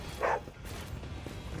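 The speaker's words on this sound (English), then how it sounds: "Whoa, why is the dog barking?" A single short dog bark in the Warhammer 40K: Rogue Trader video game, fairly faint against a steady low background hum.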